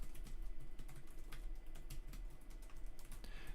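Rapid, steady typing on the plastic-keyed keyboard of an Uperfect X Mini lapdock, a continuous patter of light clicky keystrokes close to the microphone with no talking.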